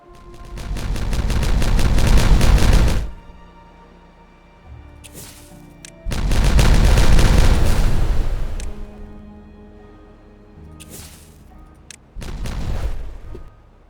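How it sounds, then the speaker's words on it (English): Demolition explosions in the video game Timberborn go off as three long bursts of rapid, crackling blasts, each lasting a few seconds, loud and close, separated by quieter lulls with a few faint thuds. "Time for some explosions."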